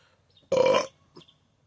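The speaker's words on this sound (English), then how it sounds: "I had to burp" A single loud, close burp after drinking cold iced tea, with a short faint follow-up sound a moment later, otherwise quiet.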